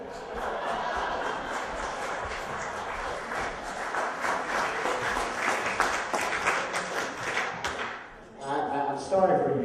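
Audience at a comedy show clapping in a steady, dense wash of applause that builds, then fades out near the end as a voice starts talking.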